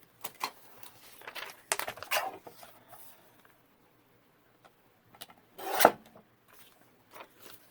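Paper edges are inked for a junk journal page: soft, scratchy rubbing strokes come in short bursts, quiet and close, with one louder swipe partway through and stretches of near silence between.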